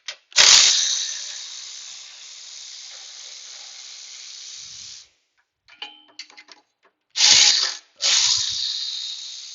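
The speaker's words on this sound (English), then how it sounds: "I'm just going to go to the other side over there and remove the other sway bar" A hand ratchet clicks rapidly while loosening sway bar bolts on a 2012 Dodge Charger, loud close bursts of ratcheting separated by pauses and a few quieter metallic clinks.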